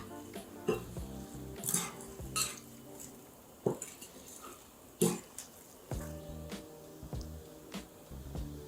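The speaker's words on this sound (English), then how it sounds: "so now we're just gonna mix this up" Chicken marinade ingredients mixed in a bowl for Dominican stewed chicken give scattered clinks and scrapes of a utensil against the bowl, several sharp taps among softer stirring, close and fairly quiet.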